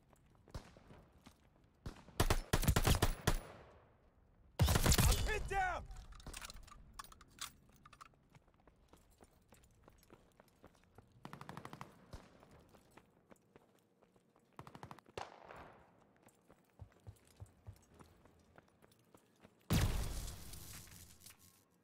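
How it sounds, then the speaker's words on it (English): Gunfire bursts in the Call of Duty Vanguard video game, loud rapid volleys around 2–3, 5 and 20 seconds with scattered quieter shots and footsteps between, no talk. "Who's shooting at me?"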